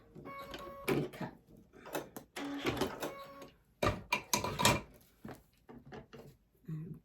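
A sewing machine stitching and back tacking through a quilted fabric heart with ribbon, short bursts of rapid mechanical clatter broken by pauses and handling noises, heard close with soft talk in between.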